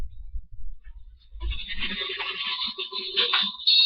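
An electric desk fan whirs steadily after being switched back on, its buzzing hum carrying to the end alongside a few faint knocks, with low rumbling handling noise before it starts.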